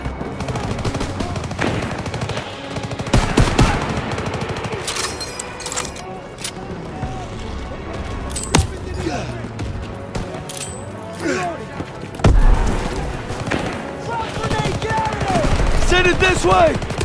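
Rifle and machine-gun fire in the Call of Duty WW2 Operation Cobra mission, dense bursts of rapid shots and single cracks from near and far, with shouted voices and explosions mixed in.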